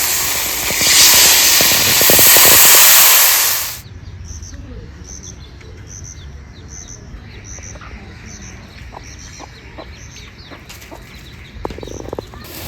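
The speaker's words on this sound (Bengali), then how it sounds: "এবার জল দিয়ে দেবো।" Water poured into hot frying masala for a giant freshwater prawn curry bursts into a loud, roaring hiss for about four seconds, then dies down while chickens cluck and birds chirp nearby.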